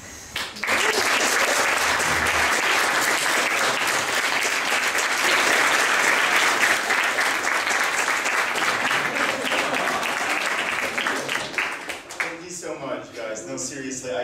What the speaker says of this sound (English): this applause goes for all of us